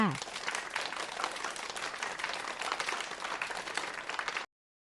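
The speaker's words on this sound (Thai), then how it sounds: "นักเรียนปรบมือให้กับจินดาหน่อยค่ะ" Schoolchildren in a first-grade classroom clap for a classmate who won a prize pencil, a steady dense patter of many hands that stops abruptly.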